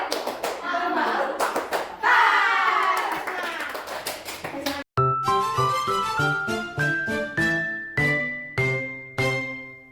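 A classroom claps out the tepuk sambal rhythm in uneven bursts of hand claps for the first half. After a brief gap, a rising sequence of ringing, chime-like notes plays, each struck note decaying in turn.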